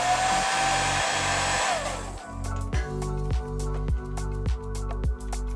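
Heat tool blowing hot air onto the adhesive beneath a Nintendo Switch 2's rubber feet, a steady close whooshing hiss that sputters into a rapid, pulsing drone in the second half, with no talking.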